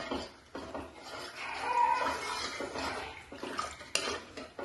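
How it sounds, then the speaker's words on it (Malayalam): A spoon stirs milk and condensed milk in a pot for custard semolina porridge, giving soft scraping and light metal clinks at a low, steady level with no voices. "ഇത് നല്ലോണം മിക്സ് ചെയ്യുക. ഈ പാലും കണ്ടൻസ് മിൽക്കും ഇതിൽ നല്ലോണം"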